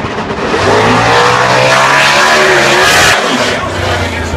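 A drag racing car roars at the starting line of a drag strip during the U.S. Nationals, a loud, close engine drone rising and surging with a deep throbbing pitch, under an announcer's commentary.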